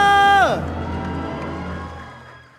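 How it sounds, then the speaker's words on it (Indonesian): A crowd cheers and applauds in an esports arena during game three of a BTR versus RRQ match. A loud tone sweeps downward at the start, then a steady roar of cheering continues and slowly fades. "Mana tepuk tangannya?"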